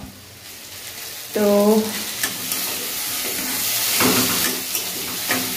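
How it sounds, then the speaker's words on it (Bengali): Potatoes frying in a pan give off a steady, close sizzle that swells after a brief stir, while a voice speaks briefly over the cooking. "এই যে আলু ভাজা চাপিয়ে দিলাম"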